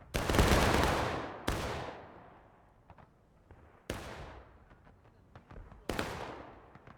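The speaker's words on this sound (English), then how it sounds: "Take aim. Fire." Massed musket volleys crack out in a Civil War battle in the game War of Rights, four sharp loud bursts a couple of seconds apart, each trailing into a long fading rumble, with scattered single shots between.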